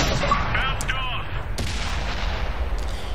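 StuG III G tank cannon firing at heavily armored machines in a game battle: a sharp blast followed by another distant crack, with low rumbling engine drone carrying steadily throughout.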